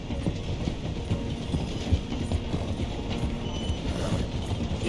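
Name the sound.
train slowing down through a station in Red Dead Redemption 2 video game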